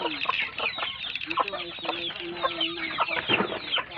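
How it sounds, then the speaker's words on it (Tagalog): Two backyard hens cluck and murmur close by, a busy run of short, overlapping clucks and soft calls through the whole stretch. "Dalawang hens yan sa ilalim."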